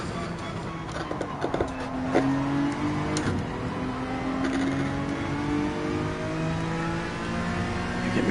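A McLaren race car engine in Gran Turismo 7 revs and climbs through the gears, strong tonal whine rising and shifting several times, with brief clicks and knocks over a steady loud drone.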